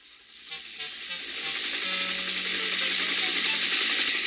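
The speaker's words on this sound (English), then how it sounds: "The noisiest of all was a helicopter." Helicopter flying noisily overhead, a rising whooshing roar with rhythmic rotor chopping that swells and holds loud, alone.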